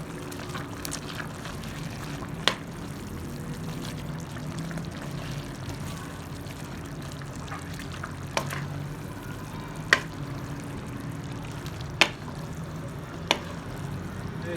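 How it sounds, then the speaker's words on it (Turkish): Green beans cooking in olive oil in a pot, stirred with a soft continuous bubbling sizzle and a few sharp utensil knocks against the pot's rim; no voices. "Şimdi her tarafını eşit miktarda karıştırıyorum."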